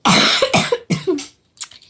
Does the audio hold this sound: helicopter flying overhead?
no